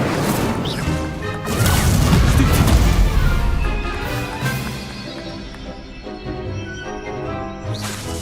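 An Incendio fire spell in the Hogwarts Legacy video game erupts as a loud, crashing burst that swells into a booming roar, then decays into a crackling rumble that stays steady until a final flare.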